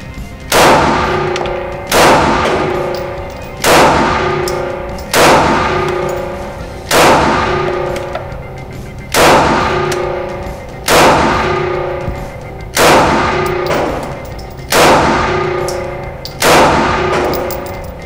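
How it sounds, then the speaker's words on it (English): A Smith & Wesson M&P9 M2.0 pistol fires about ten evenly spaced, loud, sharp shots at a target 20 feet away, each report followed by a short ringing decay. "So let's put 10 rounds down range, 20 feet."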